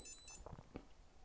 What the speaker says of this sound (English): So by default, it's double beep.